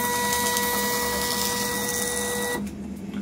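A 450e sewing machine hums and whirs steadily as its mechanism moves down, then the motor cuts off abruptly near the end.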